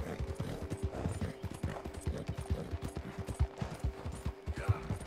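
Rapid clip-clop of horse hooves galloping in Red Dead Redemption 2, a quick continuous drumming rhythm with jingling tack and mechanical rattle, fairly quiet.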